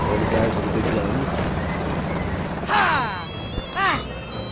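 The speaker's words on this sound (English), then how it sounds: "It looks like we're ready for the helicopters." Helicopters arrive in the LEGO Jurassic World video game with a continuous rotor drone and whooshing effects, then two louder swooping bursts over steady game noise.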